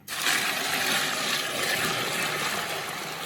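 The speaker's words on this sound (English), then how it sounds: "So I'm going to add some water" Water poured into a bucket of fishing bait particles, a steady broad splashing rush that starts abruptly and runs continuously, close and fairly loud, with no voices.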